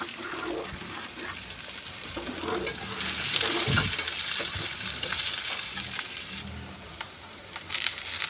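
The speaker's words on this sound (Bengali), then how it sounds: "পেঁয়াজটা ভাজা হয়ে গেছে" Onion frying in a pan gives a continuous, close sizzle and crackle, with stirring scrapes and a faint hiss rising and falling throughout.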